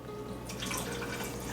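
Two ounces of orange juice poured into a Lapu Lapu cocktail glass, a steady liquid stream splashing in close and clear, running throughout without talk.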